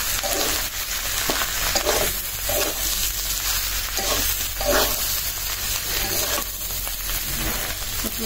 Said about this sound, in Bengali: চিংড়ি মাছ দিয়ে করলা ভাজি